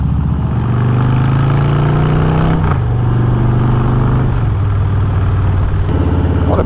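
Harley-Davidson Fat Bob motorcycle engine revving up and holding a loud, deep rumble nearby, its pitch stepping down through a few settles, with no talking.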